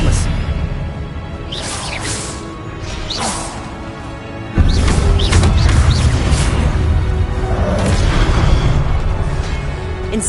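Spell explosions in Hogwarts Legacy: repeated booming blasts, pops and whooshes in quick succession, close and loud, with a voice calling out over the combat.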